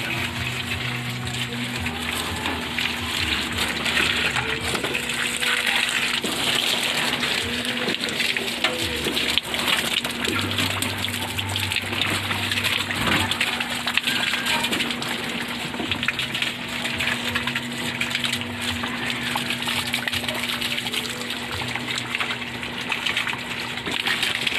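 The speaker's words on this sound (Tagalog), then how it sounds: "Ayan, binuksan yung motor ko." An electric water pump motor runs with a steady drone while water gushes out in a loud, continuous rushing flow for the whole stretch.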